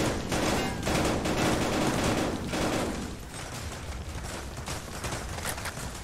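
Rapid bursts of gunfire from a VR shooter game rattle densely for the first few seconds, then taper into a steadier, softer stream of shots, with no clear talk over it.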